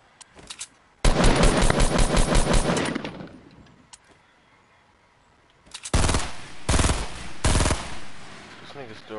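Video game gunfire: a long burst of rapid automatic shots, a few isolated shots, a quiet gap, then several more loud, close volleys of fire.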